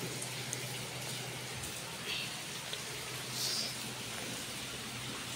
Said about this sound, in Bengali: বৃষ্টি হচ্ছে তো হচ্ছে, ওখান দিয়ে পড়তেছে ছাদ থেকে পানি